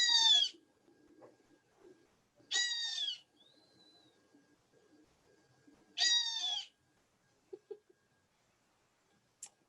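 Recorded calls of Hawaiian native forest birds: three loud, harmonic, slurred cries about three seconds apart, a thin whistle between, and faint short chips near the end over quiet background.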